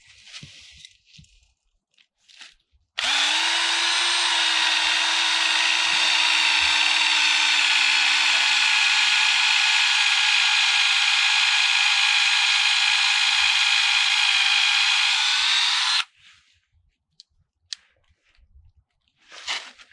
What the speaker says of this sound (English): we'll be drilling through a lot of just dead corky bark, outer bark here